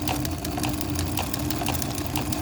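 A Kenmore 1813 sewing machine runs a stretch stitch, a steady fast mechanical whirring and ticking rhythm heard close and alone for a couple of seconds.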